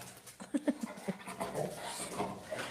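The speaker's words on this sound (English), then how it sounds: "I have rebellious dogs here." Dogs pant and whimper close by indoors, with short soft whines over steady breathy panting and no talk.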